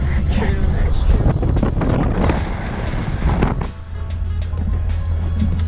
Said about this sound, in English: It's probably so windy.